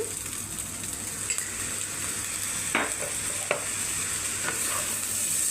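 Noodles stir-frying with a splash of soy sauce, a steady bright sizzle throughout with a few sharp scrapes and clinks of the spatula against the pan, close and continuous.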